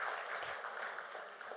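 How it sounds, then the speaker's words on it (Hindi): An audience at a shayari poetry gathering applauds briefly, a faint, distant wash of steady clapping. "एक बार जोरदार तालियां अपने लिए बजा दें।"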